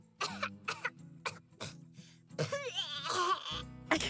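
Hella, a character in the video game Path to Nowhere, coughs in several short, close bursts, then splutters and gasps under soft background music.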